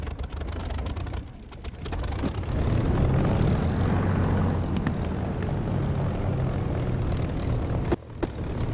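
An aircraft engine starting in the DCS flight simulator game, heard as a loud, steady propeller-engine roar that swells after the first second and holds close and continuous, with a brief dip near the end and no talking.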